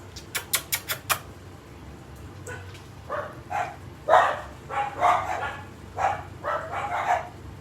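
Several dogs bark in short repeated bursts, a quick volley of sharp yips at first, then louder, deeper barks continuing irregularly nearby.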